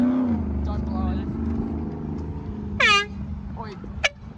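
Air horn blown as a prank: a loud, brassy honking blast partway through, then a shorter second blast near the end, with people talking and shouting throughout.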